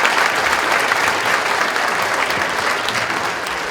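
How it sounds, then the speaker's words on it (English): An audience applauds Adam Gazzaley after his talk on the brain, a dense, loud wash of clapping that holds steady and eases slightly toward the end. "Let's give Adam a round of applause."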